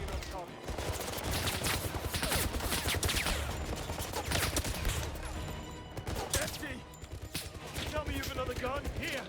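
Rapid bursts of gunfire in the video game 007: First Light crackle and rattle almost nonstop, with dense automatic fire and sharp shots overlapping in a busy battle mix.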